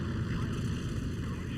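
Steady, loud drone of a Hawker Tempest piston-engine fighter in the War Thunder video game, a constant low engine roar with no change in pitch or level.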